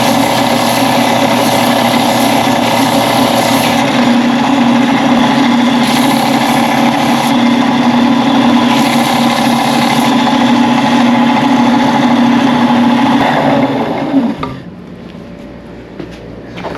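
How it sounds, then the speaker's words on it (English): A power sander works a wooden smartphone sound booster, droning loudly and steadily up close, then winds down and stops near the end, leaving faint quiet. "We've sanded down and sanded up the sharp corners."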